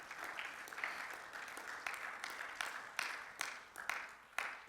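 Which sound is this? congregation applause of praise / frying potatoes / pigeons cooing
congregation applause of praise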